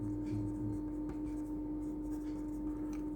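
A marker or chalk scratches across a board as a chemistry teacher writes out a molecule during a polarity lesson, quiet strokes running under a steady electrical hum.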